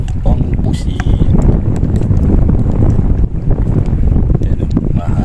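Strong wind buffets the microphone at a seaside fishing spot on Al Reem Island, Abu Dhabi, a loud continuous low rumble with gusty surges, while someone talks through it.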